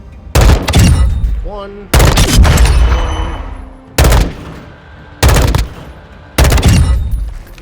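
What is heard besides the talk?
M16 firing 3-round bursts in Modern Warfare 2 video game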